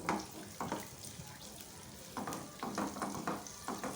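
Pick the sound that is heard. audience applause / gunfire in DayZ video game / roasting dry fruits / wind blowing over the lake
roasting dry fruits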